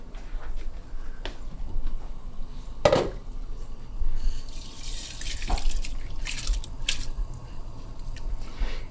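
Water drains from a pot of parboiled rice into a sink, a steady running and splashing wash with a few sharper clanks and drips, close and fairly quiet with no talking.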